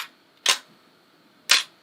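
A film camera shutter set to a 1-second exposure fires, with a crisp mechanical click on opening and a second click on closing one second later, close and alone in a quiet room.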